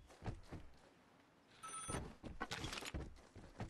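An old-style telephone rings in the game Vigor, a couple of bursts of bright ringing bells amid footsteps and game noise, fairly faint and distant in the scene.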